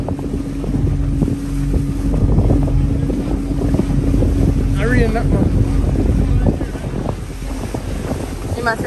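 Small motorboat running across open water on the way to Pelican Bar, with steady engine drone, splashing hull and heavy wind buffeting the microphone throughout.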